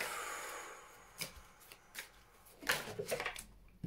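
Tarot cards shuffled by hand at close range, soft quiet riffles and flicks in irregular bursts, growing busier toward the end, with no talk.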